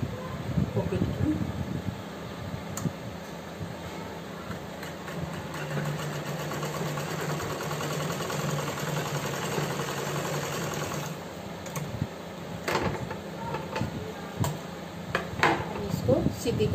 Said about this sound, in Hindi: नीचे की सिलाई लगाएंगे पॉकेट की।